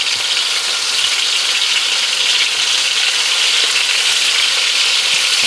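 Burger patties sizzle and fry steadily in hot oil inside a pot, a loud, continuous crackling hiss with no voices.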